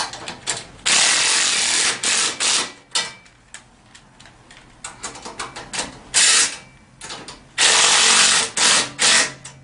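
A power tool tightens bolts on the front rack of a TaoTao 150 Hummer ATV. The bursts are loud and close, whirring and ratcheting, and are broken by short pauses and lighter mechanical clatter.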